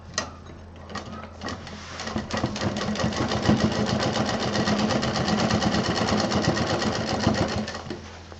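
Close, rapid stitching of a sewing machine sewing a lace-edged cushion pillow, starting with a few slow stitches then running steadily at speed.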